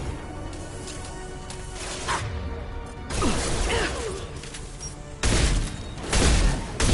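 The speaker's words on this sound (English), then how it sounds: "Firing now." A weapon fires in Mass Effect 2 amid a loud, layered barrage of blasts, crashes and mechanical clatter. It comes in dense bursts, with a heavy boom toward the end and no voices.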